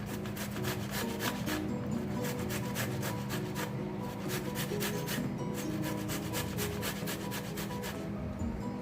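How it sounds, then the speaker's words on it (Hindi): Fresh tomatoes are rubbed against a metal grater in quick, steady, repeated rasping strokes, close by and moderately loud, with no talking. "आपने इसको इस ग्रेटर की मदद से फ्रेश टमाटर लेना है और इसको पील कर लेना है।"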